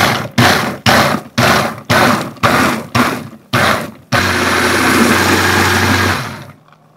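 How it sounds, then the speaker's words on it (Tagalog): A food processor pulses about eight times in quick bursts on cucumber, half a cup of sugar and half a lemon, then runs continuously for around two seconds before winding down to silence. "ilagay na natin sa food processor yung pipino, kalahating tasang asukal, at kalahating lemon"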